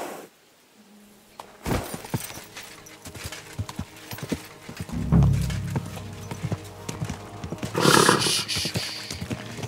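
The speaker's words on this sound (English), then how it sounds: "Easy, good horse." Horse in the video game Kingdom Come: Deliverance II, hooves clopping in uneven steps along with snorts and a loud neigh toward the end, close by.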